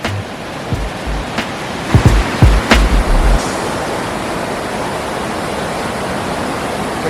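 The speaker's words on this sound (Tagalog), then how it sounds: "first time to see a waterfall." A waterfall pours in a steady, broad rush of falling water, heard outdoors at a nature spot near Whistler, Canada, with a few short louder splashes and knocks breaking through early on.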